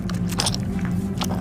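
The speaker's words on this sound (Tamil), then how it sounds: "அதை எப்படி உருவாக்குவாங்கன்னா, மைக்க பக்கத்துல வச்சு தக்காளி இந்த மாதிரி கடிப்பாங்க." A tomato bitten right up against a microphone to make a zombie bite effect, giving a close, wet crunching and squishing bite that lasts just over a second.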